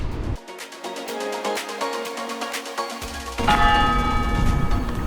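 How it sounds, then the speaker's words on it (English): A church bell in Connellsville, Pennsylvania rings in a rapid, steady series of strikes for about five seconds, with louder rumbling background noise joining near the end. "They rang the bell for our arrival."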